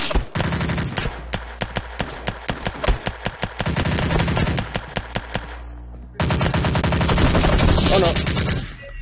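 Rapid automatic gunfire from a VR shooter, loud bursts of close shots in a fast rhythm, a short pause, then another sustained volley.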